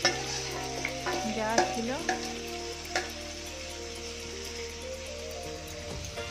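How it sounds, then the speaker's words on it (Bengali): Marinated chicken with spices sizzles loudly in a pot as it is stir-fried for chicken biryani, with a few spatula scrapes and knocks early on over a continuous frying hiss; a voice speaks briefly. "তার আগে মাংসটা ভালো করে কষিয়ে নিচ্ছি, ভালো করে কষাতে হবে মাংসটা"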